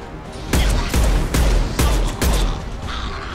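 Enemy rocket launcher fire in Mass Effect 2, five loud, heavy bursting blasts spaced about half a second apart, each with a deep booming low end and a sharp crack, fading into lighter rumble at the close.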